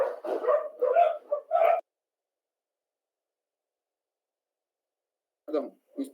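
Pet dogs bark in a quick burst of about five loud, close yips and woofs, fall silent for several seconds, then give two more barks at the end.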